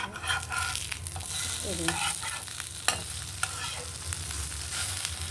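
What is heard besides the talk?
food frying in ghee on a pan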